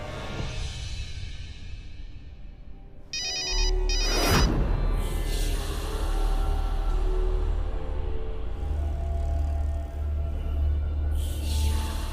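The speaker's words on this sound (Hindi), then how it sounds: "आप स्वाति को फोन लगा रहे हैं कि हम और अनुज जाएं उससे मिलने?" A telephone ringtone plays loudly while a call is placed, a bright electronic ring that stops abruptly and is followed by a steady low hum of the line.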